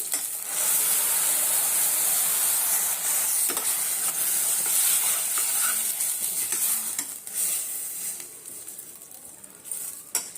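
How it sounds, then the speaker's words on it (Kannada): Ground masala is added to fenugreek leaves frying in a pan and hits the hot oil with a loud, continuous sizzle and hiss. The hiss fades over several seconds, with a few scraping stirs near the end. "ಚೆನ್ನಾಗಿ ಮೆಂತ್ಯ ಸೊಪ್ಪು ಫ್ರೈ ಆಗಿದೆ ಈಗ ರುಬ್ಬಿರುವಂಥ ಮಸಾಲನ ಹಾಕ್ತಾಯಿದ್ದೀನಿ"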